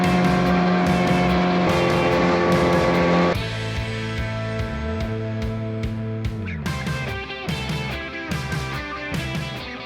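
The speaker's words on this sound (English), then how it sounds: "It's about a 10-minute drive in the dinghy through the Tunnel of Love" A motor dinghy cruises through marina waters, its outboard engine humming steadily and shifting pitch as it throttles down and back up, close and continuous without talk.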